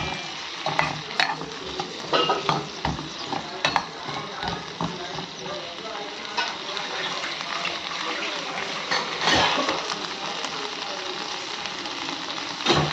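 Ingredients sautéing in oil in a pan for pepper nalli curry, a steady close sizzle with frequent scraping stirs of a spoon throughout.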